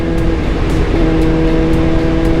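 A Yamaha R7 parallel-twin motorcycle engine, 180-degree crank, drones loud and steady up close, a dense continuous low rumble with a sustained tonal hum and faint periodic whooshes.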